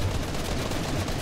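Gunfire in the Fortnite video game, a steady dense crackle of shots filling a short moment at moderate loudness with no voices.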